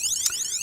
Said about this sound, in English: and a siren